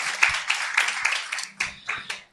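Congregation clapping during a Portuguese-language church sermon, a small, fairly close group giving rhythmic, uneven claps that rise and fade over a couple of seconds.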